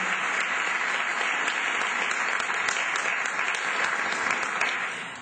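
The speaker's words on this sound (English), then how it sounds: "I think we should give a round of applause for Ambassador" A community audience applauds an ambassador at an event, a dense, steady clapping that fills the space evenly and begins to fade at the end.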